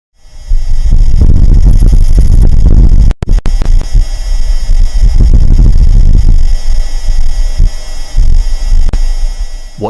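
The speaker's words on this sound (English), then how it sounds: "What you just heard is an actual gust of wind on the surface of Mars." A gust of wind on the surface of Mars, recorded by NASA's Perseverance rover, comes through as a loud, low, buffeting rumble that surges and throbs continuously, with a brief dropout partway through.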